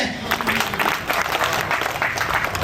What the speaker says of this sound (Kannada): ಒಂದು ಅದ್ದೂರಿ ಚಪ್ಪಾಳೆ